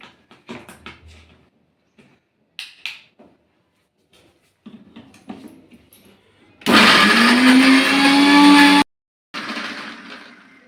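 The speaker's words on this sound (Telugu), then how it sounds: "ఇట్లా కొంచెం కచ్చపచ్చగా పట్టుకోవాలి మిక్సీకి" A mixer grinder coarsely grinding green chillies runs in one loud, roughly two-second whirring burst, surrounded by quiet clinks and handling noises, then a short clatter afterward.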